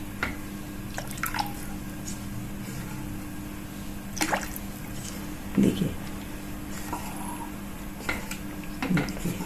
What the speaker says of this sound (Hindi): अब हमें इसमें पानी डालना है। ग्रेवी के लिए पानी डालेंगे।